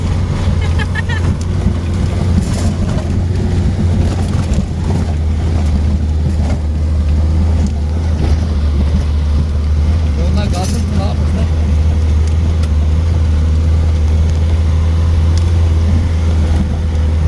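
A 1991 Lada Niva grinds through snow on Çataldağ in four-wheel drive, its engine a steady low drone with wind buffeting the microphone throughout, while people talk over it.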